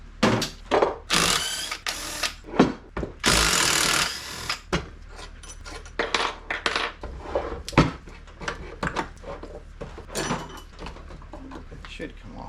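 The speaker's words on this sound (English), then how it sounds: "We're taking this starter apart." Jeep starter motor being taken apart with a screwdriver, giving irregular nearby metallic clicks, scrapes and clanks of loosened parts, with bursts of rustling handling noise in between.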